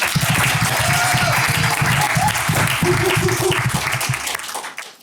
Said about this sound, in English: round of applause for Mackenzie